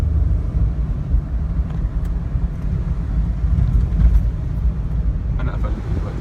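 A 2008 Jeep Cherokee engine hums under light throttle, a steady low rumble with road and wind noise heard from inside the car while someone talks.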